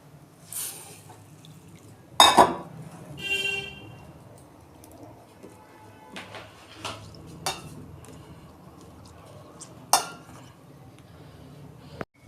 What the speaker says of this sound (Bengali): এই যে ডালটা ধুচ্ছি।